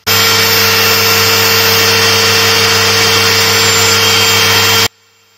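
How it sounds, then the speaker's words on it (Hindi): An electric drilling machine runs in plain drill mode, a loud, steady motor whine with constant hum held for nearly five seconds before cutting off abruptly. "सबसे पहला ये नॉर्मल मोड है जिसमें सिर्फ होल होगा।"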